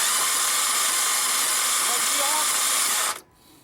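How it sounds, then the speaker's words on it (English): Starter motor cranking a 4-liter Volkswagen Routan engine that won't start, a steady loud whirring drone that runs for about three seconds then cuts off abruptly. "you can hear the starter cranking"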